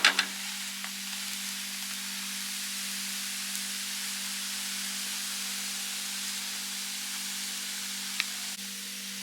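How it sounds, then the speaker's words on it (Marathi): Thalipith, a fasting flatbread, roasting in a pan over a low flame, giving a steady, soft sizzle with a faint hum underneath, alone and unchanging throughout. "थालीपीठ करताना गॅस मोठा करू नये ते मंद आचेवरच शेकून घ्यावे"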